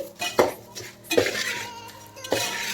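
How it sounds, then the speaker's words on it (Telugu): Spoon strokes scrape and clink against a bowl as puffed rice is tossed with turmeric and chili powder for spicy kaaram borugulu: three distinct mixing scrapes, close and moderately loud. "వీటన్నిటినీ కూడా బాగా మిక్స్ చేసుకోవాలి"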